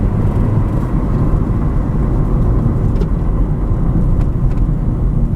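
A used car with a check engine light on is given a hard rip on a test drive at a dealer auto auction, its engine roaring loud and steady with heavy rumble throughout.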